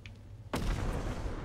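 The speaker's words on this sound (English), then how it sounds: "There's a bomb!" A bomb goes off in the co-op horror game Content Warning, a sudden heavy blast after a quiet moment, followed by a rumbling tail.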